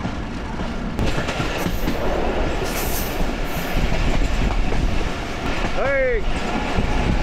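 A passenger mail train on a rural line in Bangladesh runs along the rails with a steady rumble and clatter, joined near the end by a brief high wheel squeal, while voices talk over it.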